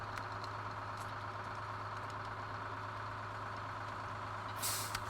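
A heavy truck idles steadily in the off-road driving game Snowrunner, a low constant engine drone, then a sharp hissing air brake release near the end.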